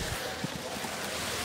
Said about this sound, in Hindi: आज काफी तेज हवा चल रही है